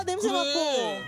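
A cat gives a clear, close, drawn-out meow lasting about a second, with a rising then falling pitch, while someone talks at the same moment.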